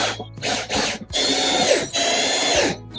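A power drill pre-drills holes for large screws while building a wooden garden entrance. It whirs loud and close in several bursts with short pauses between them.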